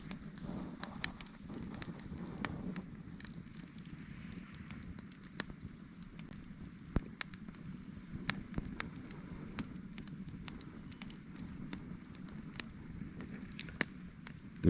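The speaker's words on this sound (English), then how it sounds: "The rain has abated." Rain falling on a tarp at a wilderness campsite beside a fire, a soft continuous patter with scattered sharp drips and crackles, faint and close, without speech.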